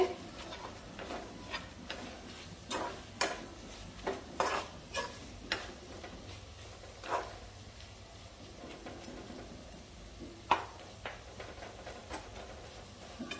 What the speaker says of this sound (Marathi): गरम मसाला, तेलामध्ये आता मी हे मसाले मिक्स करून घेते।